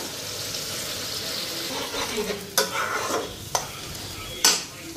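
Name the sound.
spices, salt and turmeric frying in a pan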